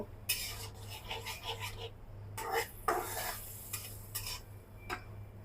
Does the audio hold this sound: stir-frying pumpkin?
yes